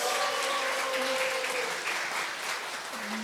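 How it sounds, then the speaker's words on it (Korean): Steady applause from an audience at a book concert marking a Songpa welfare center's 25th anniversary, dense clapping filling the room throughout with faint tonal music or feedback underneath. "다시 한번 더 큰 박수를 부탁드리겠습니다"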